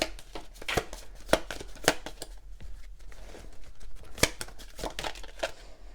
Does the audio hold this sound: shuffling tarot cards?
yes